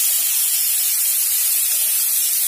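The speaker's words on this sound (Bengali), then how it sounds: "খুব সুন্দর করে একটু ভাজা ভাজা করে নিতে হবে," Potatoes and beans fry in a pan, producing a loud, constant close-up hiss of sizzling oil that holds steady throughout without breaks or voices.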